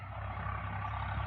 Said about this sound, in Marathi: ट्रक आला, ट्रक.